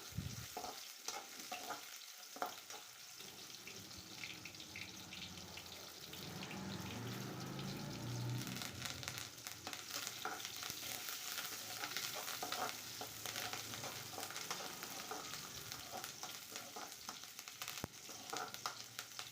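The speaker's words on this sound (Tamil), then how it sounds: "ஒரு துண்டு இஞ்சி, ஒரு கொத்து கருவேப்பிலை, இதையும் சேர்த்து நம்ம நல்லா வதக்கிக்கணும்." Tamarind, ginger and curry leaves sauté in a pan for a peanut chutney, a steady close sizzle with occasional spoon stirring and scraping, continuous and moderately loud throughout.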